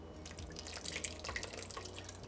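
A milk and butter mixture pours into mashed potatoes, giving soft liquid dribbling and dripping sounds, quiet and close, over about two seconds.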